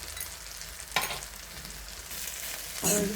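Spices sizzle in a hot pan while being stirred and roasted, including red chili powder and turmeric for a village-style cluster bean dish; a steady close frying hiss with scraping bursts near the start and end.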